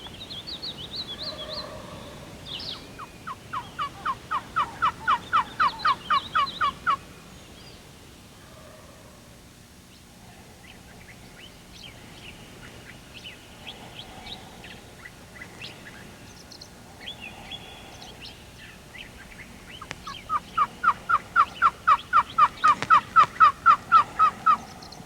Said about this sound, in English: Gobblers are all around us. We've got gobblers strutting 80 yards out there with hens. Gobblers hammering over here.